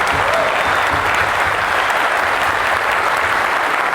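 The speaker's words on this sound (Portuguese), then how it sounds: "uma salva de palmas, aliás," Audience applause at the DevParaná Conference 2019, a Brazilian developer event: a loud, dense, steady wash of many hands clapping together, sustained for about four seconds with no voices over it.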